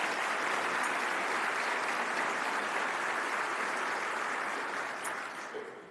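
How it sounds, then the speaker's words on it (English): Sustained audience applause at a Rutherford County Chamber of Commerce business awards event, a dense, steady wash of many hands clapping at even loudness for about five seconds before starting to fade toward the end. "Will you please join me in a round of applause for these folks and congratulate them?"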